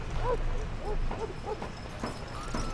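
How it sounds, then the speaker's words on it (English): A dog in the Dragon Age: Origins game barks and yips several times in quick succession, fairly close and prominent, with some game sounds in the background. "I hear the dog causing trouble."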